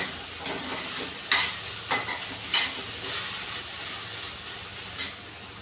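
Okra stir-fries in a hot pan with a constant hiss of sizzling oil. A spatula scrapes and stirs in several distinct strokes over it, close by, with no talking.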